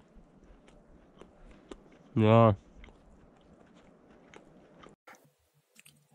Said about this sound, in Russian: Картошка-то замерзла. Она таким ледышками такими на зубах хрустит.